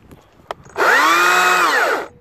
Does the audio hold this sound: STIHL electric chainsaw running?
yes